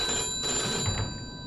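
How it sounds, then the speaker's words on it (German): A telephone rings in the Mafia II video game, a steady bell-like tone sustained through the whole short stretch at moderate loudness, with no talk over it. "Geh ans Telefon."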